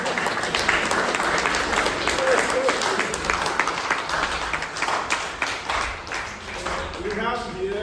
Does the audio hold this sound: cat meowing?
no